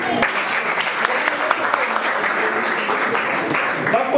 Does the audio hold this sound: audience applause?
yes